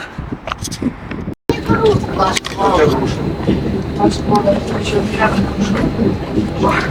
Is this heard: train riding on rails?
yes